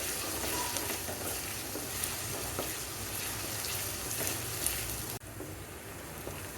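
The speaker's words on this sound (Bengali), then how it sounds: "অল্প তেল দিয়ে দিব পেঁয়াজগুলো খুব দ্রুত বাজা হবে লবণ দিয়ে দিলাম" Onions sizzle and fry in a little oil with salt, giving a steady crackling hiss throughout, with a brief dip in level near the end.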